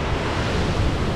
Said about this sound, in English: Creek's up higher than normal.